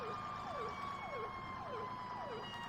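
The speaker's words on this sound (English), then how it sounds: "We'll be turning on our lights and our sirens," Fire rescue truck sirens in Farming Simulator 17 wail in a repeating falling yelp pattern about twice a second, steady and moderately distant, with no voices.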